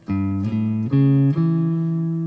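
Four guitar notes of a dominant seventh arpeggio plucked one after another, each ringing into the next, forming a rising broken chord that sustains at the end.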